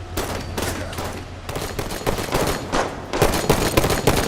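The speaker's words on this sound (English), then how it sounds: "Enemy firing from that ledge" Enemy gunfire in Halo 5 rattles from a ledge in dense, continuous automatic bursts, loud and close, with rapid shots packed together almost without gaps.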